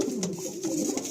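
A pair of pure Lambari pigeons coo in low, throaty rolling calls close by, continuous over a brief stretch with no voices.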